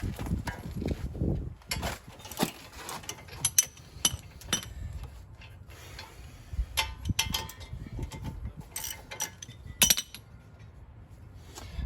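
A ratchet works a brake caliper bolt loose on a 2012 Chrysler Town & Country Limited, with close metallic clicks, clinks and creaks in irregular bursts and short pauses between them.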